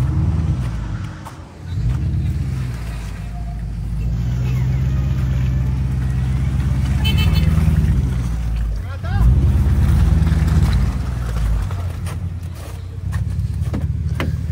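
A vehicle engine on a snowy winter trail, a loud low droning rumble that swells as it accelerates, dips briefly and then rises again, with wind buffeting the microphone and people talking over it.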